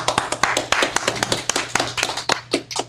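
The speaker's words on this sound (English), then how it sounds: "Let's clap it up for the Most High." A congregation at a Sabbath service claps in praise, with sharp, loud, close hand claps in an irregular burst lasting a few seconds.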